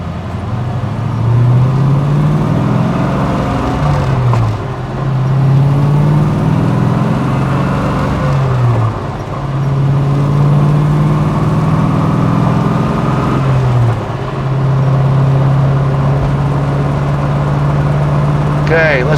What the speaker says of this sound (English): So clutch in, first gear.